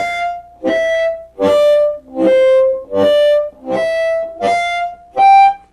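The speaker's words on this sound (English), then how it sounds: "let's take that same exercise that we used before on tongue slapping and use it now on the octaves" An amplified harmonica plays tongue-slapped octaves in a blues exercise, seven separate sustained notes in a steady rhythm, each starting with a percussive slap, loud and close with slight distortion.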